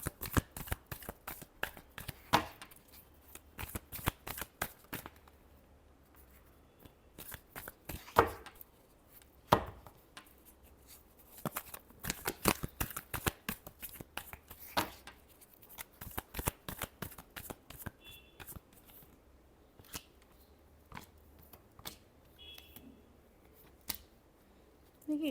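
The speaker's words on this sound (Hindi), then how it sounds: "Last shuffle." Tarot cards are shuffled again and again in quick crisp riffles and taps, sharp clustered bursts separated by short pauses, close and fairly quiet.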